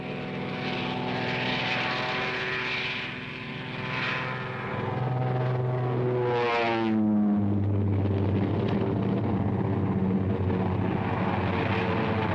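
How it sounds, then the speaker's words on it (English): Royal Air Force propeller warplanes from 1943 drone loudly overhead, their layered engine tones sliding in pitch as the aircraft pass by, with the roar sustained throughout. "hundreds of Royal Air Force planes engaged in a non-stop aerial offensive over occupied Europe"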